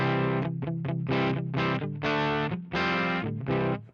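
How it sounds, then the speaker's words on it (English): Heavily saturated electric guitar through a 6L6 power-amp capture of an over-cranked MT15 on a Quad Cortex, loud chugging chords in choppy bursts with brief gaps, no voices. "that is true 6L6 tube distortion"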